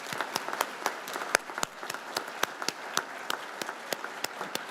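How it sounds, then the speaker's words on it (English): Audience applause for parents and guardians at a 2024 school completion ceremony, steady and moderately loud, made of many overlapping claps. "let's please join me in applause for the parents and guardians of these incredible students"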